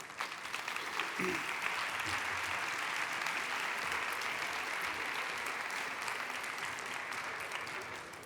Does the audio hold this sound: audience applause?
yes